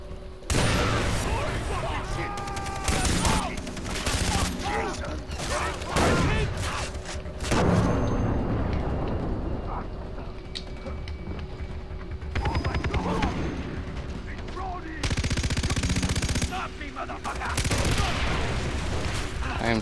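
Dense video-game gunfire from many weapons in Far Cry 3, bursts of automatic fire and booms overlapping continuously, with a voice talking over the loud battle.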